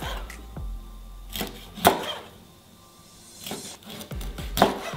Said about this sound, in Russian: И нарезаю на вот такие вот стейки.